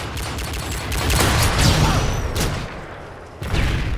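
Barrett sniper rifle gunfire in a video game, a few loud, sharp reports with booming tails close by, fading into a dense rumbling background.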